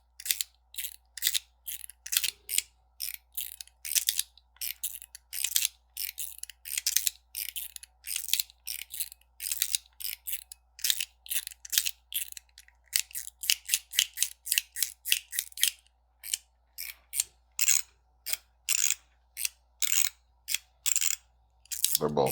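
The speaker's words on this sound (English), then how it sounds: "Let's go ahead and do a comparison in sound, since these are both mechanical push sliders." Two mechanical push slider fidgets, one zirconium and one stainless steel, snap back and forth in a long run of crisp metallic clicks, close and fairly loud, with an irregular rhythm that speeds into rapid bursts near the end.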